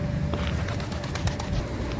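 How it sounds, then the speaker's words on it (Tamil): Pet pigeons feed together, giving soft, low cooing under steady outdoor background noise. "ஓவரால் நம்ம புறாக்கள் எல்லாமே ஃபுட்டு வந்து எடுத்துகிட்டு இருக்காங்க"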